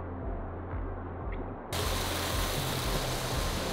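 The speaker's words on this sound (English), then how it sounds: "Little waterfall." Small jungle waterfall in Bali, a steady broadband rush of falling water that swells suddenly louder partway through and then holds constant, close by with no talking.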